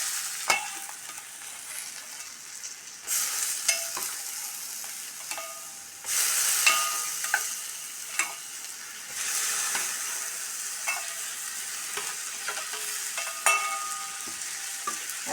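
Boiled drumstick pieces for a Kerala thoran, tossed with chilli powder and stirred in a pan: a soft continuous sizzle broken by irregular scrapes and clatters of the spoon, with louder surges of frying now and then.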